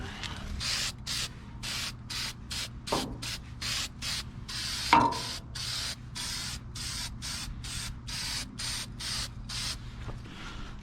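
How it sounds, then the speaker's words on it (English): Short repeated bursts of aerosol spray from a can of rust reformer, used while restoring a pontoon boat, hiss close by in a steady on-off rhythm with brief gaps, with a couple of faint knocks between sprays. "I've just been spraying this rust reformer on everything"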